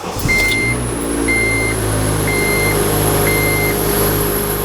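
A Honda Element K-series engine cranks against a bad belt tensioner, giving a constant loud drone with a thin high-pitched squeal over it. A tester beeps four times at a steady, evenly spaced rhythm throughout.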